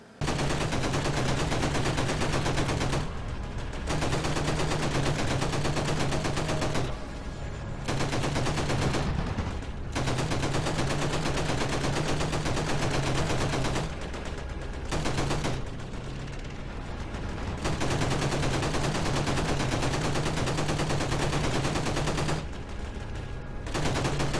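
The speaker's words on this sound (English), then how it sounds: "fighters come in and you have to use first the nose gun and then the tail gun" Rapid bursts of aircraft machine-gun fire from bomber nose and tail guns in the World War II game Call of Duty 2, loud sustained volleys broken by short pauses.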